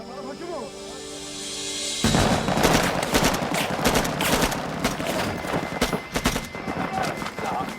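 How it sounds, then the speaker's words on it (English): Bursts of gunfire crackle in rapid, irregular volleys after a quieter opening, loud and sharp, like a fusillade from an Iraqi patrol during a firefight. "At the sound of gunfire"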